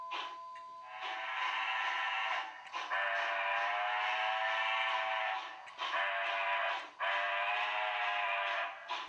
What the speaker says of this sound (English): The whistle is playable